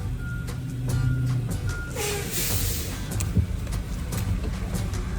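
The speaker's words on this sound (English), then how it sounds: "Oh, here comes another truck." Truck passing on a road while riding in a car, a low engine rumble swelling and fading beneath steady road noise, with faint beeping tones.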